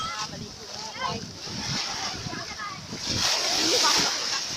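Sea waves washing along the shore at Alexandria, Egypt, a steady rushing surf with splashes, wind noise over the microphone and voices talking in the background throughout.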